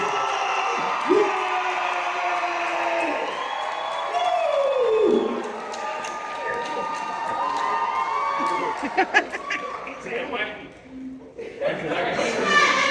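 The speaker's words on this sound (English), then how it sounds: "Let's welcome to the stage with a round of applause, Issa Rae!" An audience at a book Q&A event in Inglewood cheers as a guest is welcomed onstage, with whoops, shouts and excited chatter rising and falling, and voices calling out over the crowd noise.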